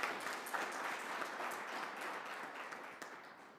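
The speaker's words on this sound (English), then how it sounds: "round of applause." Audience at a petroleum policy consultation meeting giving a round of applause for a governor, a steady, moderately loud patter of many hands clapping that tapers slightly toward the end.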